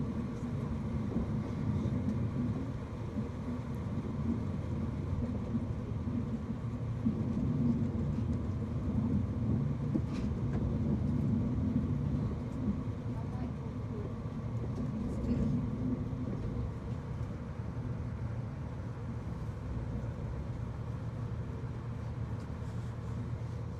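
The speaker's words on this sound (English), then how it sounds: "coming into the station, and yeah, we'll get off the train" A train rumbles steadily as it pulls into a station on the way to Harrogate, a low continuous roar holding at even loudness with faint clanks on top.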